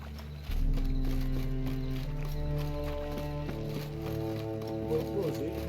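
Horse hooves in The Witcher 3 video game, a steady clip-clop gait under sustained tonal game music, moderately loud and continuous.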